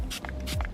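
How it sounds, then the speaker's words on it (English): Two short bursts of a spray bottle misting a scratched plastic interior trim piece from a Toyota Tacoma, each a quick, close hiss, the second following about half a second after the first. "spray it down like we've done before"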